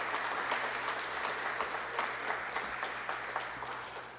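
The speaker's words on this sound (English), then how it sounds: "one more round of applause for Dr. Ebel." An audience at a public forum on recent earthquakes claps in sustained, even applause that fills the room at a loud, steady level without any voices.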